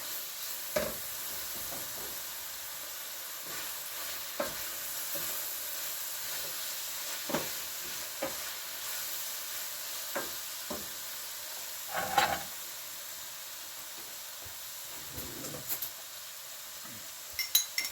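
Paprika being stirred into food frying in a pan, a soft continuous sizzle with scattered scrapes and light clinks of the utensil, fairly faint and without talk.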